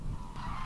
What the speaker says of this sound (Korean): 들판을 가득 메운 새 울음에